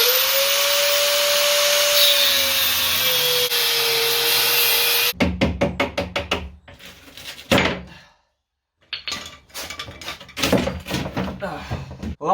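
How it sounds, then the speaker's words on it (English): An angle grinder cuts off a piece of steel in a blacksmithing shop, a loud steady whine for about five seconds, then a run of close knocks, clanks and handling thuds with a short silence. "let's get to angle grinding this piece of steel off"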